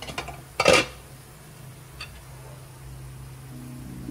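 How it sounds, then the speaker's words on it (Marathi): A lid clatters sharply onto an electric cooker holding khichdi, a single brief metallic knock followed by a faint tick and a low steady hum in a quiet room. "आता मी हे लीड लावून देते"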